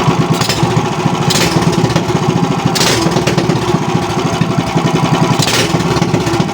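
A Honda 155 motorcycle engine runs on its carburetor with a loud, steady, rattling drone, close by, with slight pulses in the rhythm and no voices.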